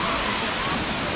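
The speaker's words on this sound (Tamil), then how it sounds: "தண்ணி சத்தம் கேட்குது." Kiliyur Falls, a 300-foot waterfall in Yercaud, heard as a continuous broadband roar of falling water, steady and fairly loud through the short stretch.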